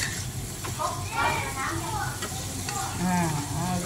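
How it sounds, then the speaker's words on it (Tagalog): Garlic sizzles and crackles steadily in a hot pan, a continuous close frying hiss with occasional stirring, while a voice talks over it. "So, lagay natin yung garlic. Garlic. Cook for another minute."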